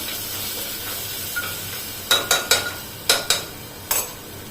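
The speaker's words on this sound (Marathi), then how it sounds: "हे जे वाटण करून घेतले आपण हे टाकायचं. परतून घ्यायचं चांगलं." A ground wet spice paste is sautéed in a pan with curry leaves, a soft steady sizzle and hiss broken by a handful of sharp spatula scrapes and clinks against the pan near the end, close and without speech.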